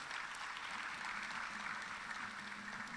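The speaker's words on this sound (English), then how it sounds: "please help me acknowledge with a very big round of applause, Dr. Nana Kofi Annan." Sustained audience applause at a national cybersecurity challenge event in 2024, a dense, steady wash of many hands clapping throughout, loud and continuous with no talk over it.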